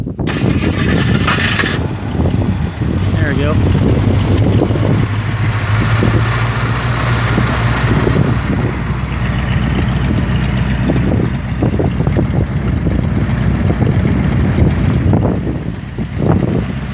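A Jeep CJ5 engine with MegaSquirt fuel injection and EDIS ignition rumbles at a steady low idle outdoors, largely buried under heavy gusting wind noise on the microphone.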